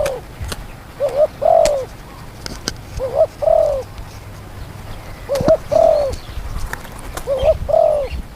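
A spotted dove coos in repeated soft, low phrases of a few notes each, spaced a couple of seconds apart, clear and fairly near, with faint outdoor background.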